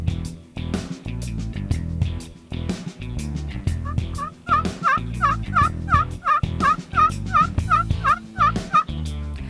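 Wild turkeys in an Oklahoma field gobble loudly and repeatedly, a rapid run of rattling gobbles overlapping one another, close and clear with no talking.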